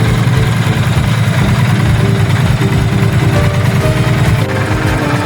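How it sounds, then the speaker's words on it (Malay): A 2024 Triumph Thruxton 1200 Final Edition motorcycle idles close by, a steady low rumbling throb with even pulsing and mechanical vibration that holds throughout. "Bunyi enjin Bonnie tak senyap, tapi bukan bising merimpit juga."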